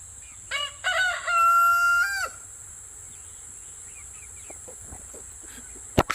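Wyandotte chickens at close range: a rooster lets out one loud, drawn-out crow, followed by scattered soft clucks and a sharp click near the end.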